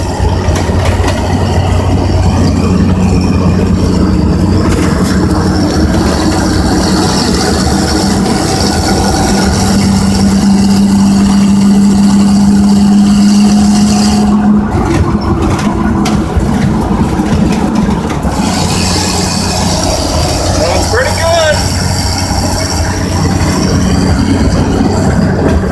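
A 1964½ Ford Mustang engine running steadily on its first drive in 21 years, a loud continuous low rumble with a rising hum in the middle and brief clatter near the end, no voices.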